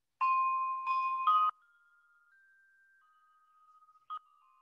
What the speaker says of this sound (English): Here I've got some circular bells loaded up here